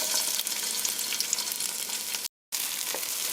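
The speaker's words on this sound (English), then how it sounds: "So once that oil is nice and hot, I'm going in with the onion." Onion frying in hot oil in a cast iron pot, a steady dense sizzle that holds near and loud throughout, broken only by a brief dropout partway through.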